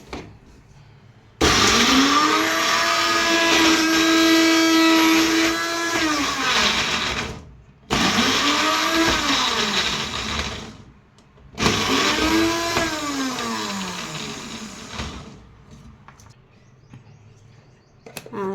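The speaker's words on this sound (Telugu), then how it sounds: "ఇది మిక్సీకి వేసుకున్నామండి" A mixer grinder blends green chillies in three long bursts, the motor whining up to speed, holding steady, then winding down, with short pauses between runs. It is loud and close.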